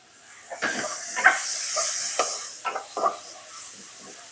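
Shallots, garlic and fresh hand-pounded curry paste stir-fry in a pan over low heat for a spicy pork dish, giving a steady soft sizzling hiss broken by repeated scraping bursts of stirring.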